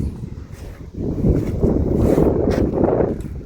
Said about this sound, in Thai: สียงลมมาเลยพี่น้องอุดอุดเลย